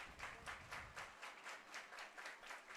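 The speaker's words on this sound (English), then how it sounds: "Larks fans clapping along to help Braden Cox out" Baseball fans at a Larks game clap along in a steady rhythmic beat, distant and faint across the stands, evenly paced claps repeating through the whole stretch.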